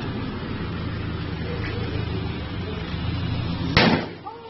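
A single sharp gunshot-like bang of a rubber bullet fired near a protest parade cuts through steady crowd noise and chatter, followed by a brief echoing tail.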